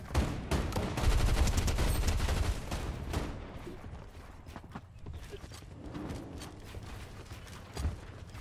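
Shotgun fire in a first-person video game, with dense, rapid blasts at the start that thin out to sparser, quieter shots and scattered mechanical clatter.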